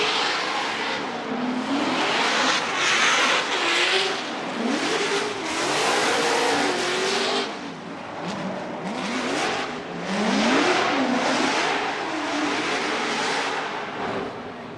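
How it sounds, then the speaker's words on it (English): Matt Field's Falcon Tires Drift Cave Corvette on a solo Formula Drift run, its engine roaring loudly and revving up and down in repeated surges with bursts of tire noise and crowd-like wash behind. "Let's listen to the Falcon Tires Drift Cave Corvette of Matt Field with his solo by run"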